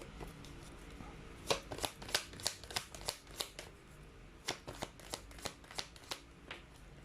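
Tarot cards being shuffled by hand, a series of crisp riffling flutters and taps in an irregular rhythm, close and fairly quiet, with no talking.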